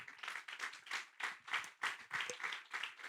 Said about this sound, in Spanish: Sí, puede aplaudir.